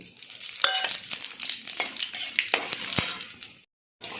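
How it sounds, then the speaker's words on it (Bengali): Five or six dried red chillies and two tablespoons of panch phoron crackle in hot oil with a steady sizzle, broken by sharp clinks and scrapes of a spoon against the pan, close and without talking. "যতক্ষণ না এর মধ্যে থেকে একটা সুগন্ধ বেরোচ্ছে ততক্ষণ আমি এটাকে ভেজে নেব"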